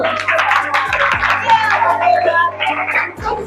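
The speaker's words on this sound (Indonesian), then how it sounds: "Oke, tepuk tangan dulu." Middle school students clap their hands together during an orientation session, a burst of rapid crowd clapping mixed with lively children's voices and a low electronic hum in the room.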